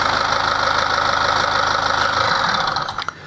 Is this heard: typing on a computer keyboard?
no